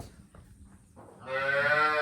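A domestic farm cow gives one loud, sustained moo close by in the second half, following faint rustling and quiet background sounds.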